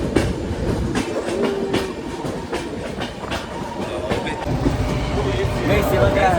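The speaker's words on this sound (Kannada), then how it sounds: "ಇವಾಗ ಟ್ರೈನ್ ಅಂತೂ ಫುಲ್ ಸ್ಪೀಡ್ ನೋಡಿ, ಎಂತ ಸ್ಪೀಡ್" A passenger train running at full speed, heard from inside a coach as a steady loud rumble with rhythmic clickety-clack of wheels over rail joints throughout.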